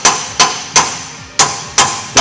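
Hammer striking a solid surface six times in a steady rhythm, each blow a sharp, loud, close crack with a brief ringing decay, no voices.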